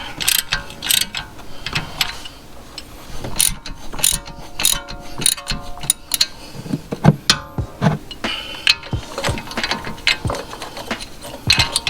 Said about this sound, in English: So you need a 5/8 socket to loosen it.